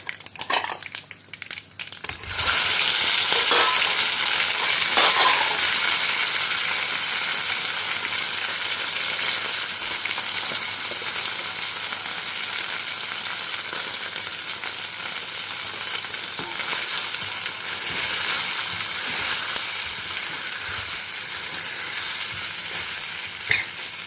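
Mustard seeds, urad dal and chana dal sizzle in hot oil for a South Indian tempering, a loud steady crackling hiss that starts abruptly after a quiet moment and carries on with occasional stirring scrapes.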